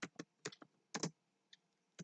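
Keys on a computer keyboard are typed in short, sparse bursts of sharp clicks close by, separated by quiet pauses, as an SQL query is entered.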